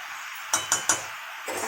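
Three quick metallic clinks as a fish head goes into a pot for a bottle gourd dish, bright sharp knocks of utensil against cookware, close, followed by a soft sizzle.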